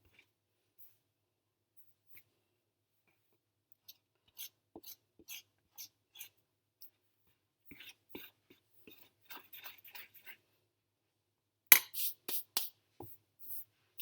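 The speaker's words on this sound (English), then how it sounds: "I also like to scrape it from the bottom, make sure I don't have any flour mixed to the bottom." Pasta dough and flour are scraped from the bottom of a bowl in faint, scattered scratches and rubs that grow into a louder cluster of scrapes near the end, close by with no talking.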